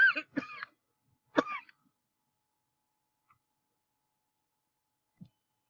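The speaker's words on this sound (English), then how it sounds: "Sorry for that a little coughing there" A man coughs a few times in quick succession near the start, loud and close, followed by a throat sound and long near-silence with a couple of tiny clicks.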